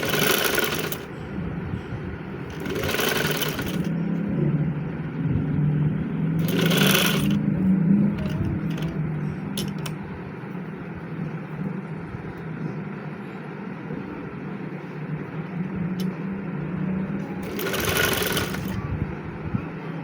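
A sewing machine hums and rattles steadily nearby as it stitches a neck design along buckram on a garment, with short pauses between stitching runs and no talk over it.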